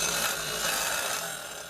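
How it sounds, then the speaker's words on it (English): A jigsaw cuts through 1/8 inch thick steel plate, a steady, loud rasping buzz that runs without pause and fades slightly at the end, with no talk over it. "For metal this thick, a plasma cutter works best, but a jigsaw will do it too"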